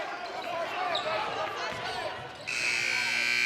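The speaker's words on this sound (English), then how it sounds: "As the buzzer goes off and the first half comes to an end" A long electronic buzzer starts sharply partway through and holds steady to the end, marking the close of the first half of a high school basketball game. Before it, a commentator talks over crowd noise and ball bounces in the gym.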